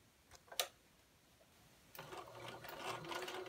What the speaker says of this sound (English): Place the fabric under the presser foot and sew a 1/2-inch seam